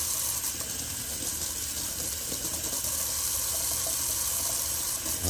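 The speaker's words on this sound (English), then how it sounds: "I'm just gonna rinse my sink real quick" Tap water running steadily into a bathroom sink while it is rinsed, a constant loud rushing splash close by, unbroken for the whole stretch with no talking.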